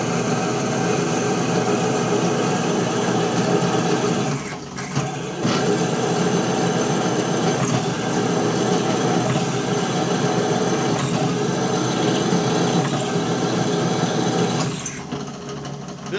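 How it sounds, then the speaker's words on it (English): A drill bores steadily through steel while making a hole for a grease fitting in a shift lever shaft, a loud continuous whine and grind with a couple of brief dips where the pressure eases. "Seems to be drilling quite nice."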